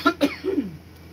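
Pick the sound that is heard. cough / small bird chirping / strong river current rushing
cough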